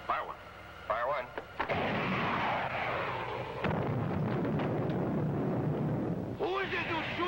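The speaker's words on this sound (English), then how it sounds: "Prepare to fire 2 missiles on a 5-count, Biff." A missile launch in a vintage space-ranger sci-fi drama roars as a sustained rushing, rumbling blast lasting several seconds, framed by brief bursts of spoken radio-style dialogue.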